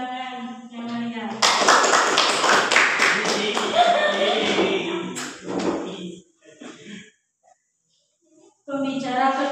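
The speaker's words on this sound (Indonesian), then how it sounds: "Tepuk tangan yang meriah." An audience at a school speaking event for young students breaks into a burst of clapping lasting several seconds, with people talking before and after it.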